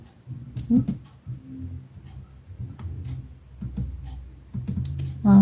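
Computer keyboard keys tapped at an irregular pace close up while numerical-methods calculations are entered, ending with a firmer press of the enter key and no talking.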